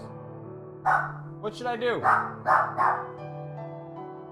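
Dogs bark in the video game Undertale: several short, bright yaps in a quick cluster over sustained game music tones, with someone talking over part of it.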